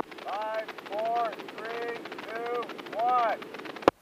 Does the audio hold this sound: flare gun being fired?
yes